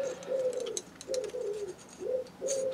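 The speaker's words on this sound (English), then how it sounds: "the pigeons are back out" Pigeons cooing close by in a workshop setting, four soft drawn-out coos in a steady rhythm with faint clicks between, no talk.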